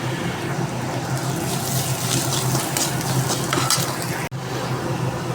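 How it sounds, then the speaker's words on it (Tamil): Onions sautéing in oil with fenugreek seeds and curry leaves in a pan, a continuous close hiss and sizzle with occasional stirring, alone and steady throughout, with a brief dropout near the end. "வெந்தயம் பொரிஞ்சதுக்கப்புறம் கருவேப்பிலை போட்டு வெங்காயத்தை போட்டு பொன்னிறமாக வதக்கணும்"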